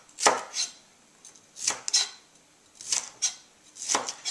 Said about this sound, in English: Now, I like to take the halves here and just cut them first into strips.